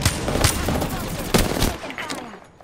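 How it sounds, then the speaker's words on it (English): Gunfire in a video game shootout: rapid, dense bursts of shots follow one another across the whole stretch, loud and close, easing off slightly toward the end. "I am taking fire, friends."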